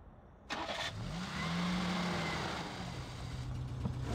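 A Škoda car engine in a Mafia game mod starts up abruptly and settles into a steady mid-pitched running drone with a slight rise, loud and close, with no talking.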